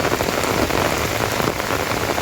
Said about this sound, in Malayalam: മഴ നല്ല രീതിയിൽ കടുക്കുവാണ് ഗൈസ്